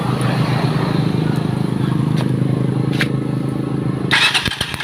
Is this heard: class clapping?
no